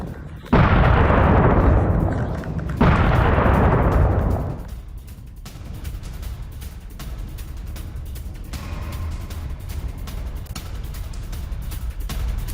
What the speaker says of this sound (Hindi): सेना के ठिकानों पर भीषण धमाके किए गए हैं।